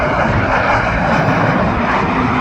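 Fixed-wing airplane flying over near BWI Airport, a steady loud engine roar that fills the whole stretch with no break and no talking.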